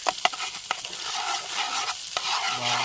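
Masala-coated fish fry being stirred in a pan over a riverside camp fire, with repeated scraping strokes over a steady sizzle and crackle of hot oil, close and fairly loud.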